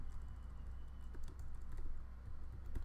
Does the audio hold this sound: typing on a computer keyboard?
yes